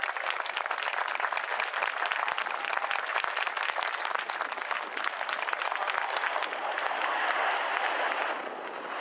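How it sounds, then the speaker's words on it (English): A large outdoor crowd at the RIAT 2016 airshow applauds for Great Britain, a broad, even wash of clapping heard at a moderate distance that continues steadily before easing slightly at the close. "Let's have a huge round of applause for Great Britain,"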